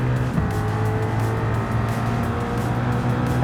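A Gran Turismo 7 GR3 race car at Daytona, held flat through a left kink: a loud, steady engine drone with a sustained tonal whine throughout, near and continuous with no talking.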